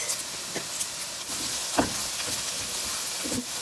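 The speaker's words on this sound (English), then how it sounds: "Roast curry leaves." Curry leaves roasting in a pan with turmeric on medium-high heat sizzle and hiss steadily up close, with several soft pops and stirring taps scattered through.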